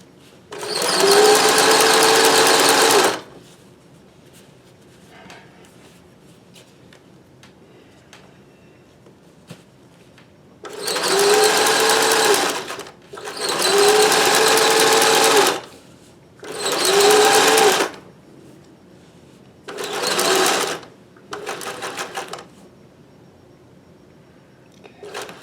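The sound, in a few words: Singer 411G sewing machine stitching rubber-backed fabric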